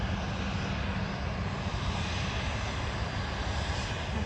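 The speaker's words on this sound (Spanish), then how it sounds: "¿Has visto qué bonito suena? El motor de los aviones." An airplane engine runs continuously, a loud, even roar with a rushing hiss that holds steady from start to finish with no voices over it.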